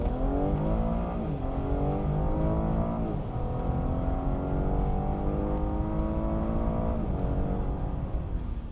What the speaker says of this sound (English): this gem of a V6 makes a great noise, a deep growl that melts into a high RPM wail